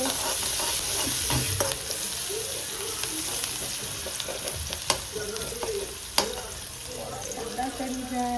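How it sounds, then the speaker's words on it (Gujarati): Onions frying with curry leaves and asafoetida in a home kitchen pan, a steady close sizzle with scraping stir strokes and a few sharp clinks of a spoon against the pan. "લીમડા નાખી દેશું, ત્યારબાદ હિંગ નાખી દેશું, ત્યારબાદ કાંદા નાખી દેશું. પછી એને હલાવી લેશું."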